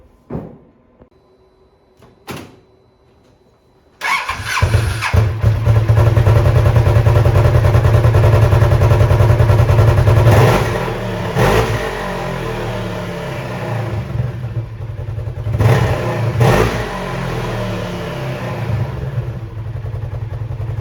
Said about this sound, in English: I'm going to do a stock startup and rev.